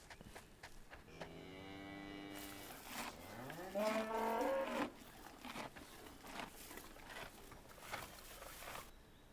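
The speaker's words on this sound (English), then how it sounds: "some of these noises, sounds never changed in any of the versions. But that's basically cows." Cows moo in the Farming Simulator 2011 video game, with a couple of drawn-out lowing calls rising and falling over soft background patter and no talking.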